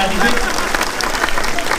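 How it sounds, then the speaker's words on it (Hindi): A crowd at a Hindi comic poetry show breaks into loud, dense applause, a short burst of clapping with a voice faintly mixed in. "तालियां एक बार जोरदार बजा दीजिए"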